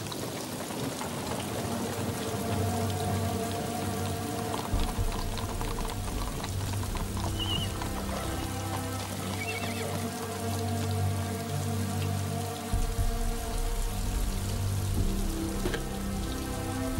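Steady rain falls and patters on surfaces for the whole stretch, a dense, even hiss with faint tonal sounds in the background and no voices.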